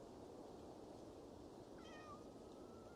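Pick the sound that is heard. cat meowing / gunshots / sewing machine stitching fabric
cat meowing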